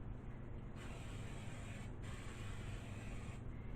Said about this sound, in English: I probably should spray my loaf pan here, which I will do right now, with my olive oil.